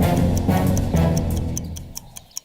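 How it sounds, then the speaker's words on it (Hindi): A wristwatch with a fault ticking loudly and close, a fast steady run of sharp ticks that grows more distinct as a low background rumble fades. "वो मेरी घड़ी लगता है कुछ खराब हो गया, बहुत आवाज कर रही है।"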